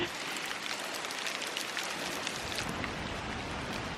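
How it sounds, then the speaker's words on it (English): Hail falls through a high-elevation Colorado forest, a dense, steady hiss of countless small impacts on leaves and ground, continuous and fairly close with no voices. "It's hail."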